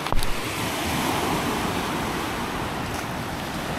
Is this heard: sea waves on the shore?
yes